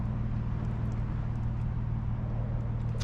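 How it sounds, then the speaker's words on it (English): A BMW M340i with its B58 engine drives through wet city streets at night, a steady, low engine drone holding constant throughout with road noise and no talking. "more or less just car audio, you know, show off the B58 sound"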